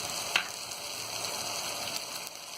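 Egg biryani mixture with yogurt and fresh mint sizzles and fries steadily in a pan, a continuous close crackle with one brief sharper spike near the start and no talk.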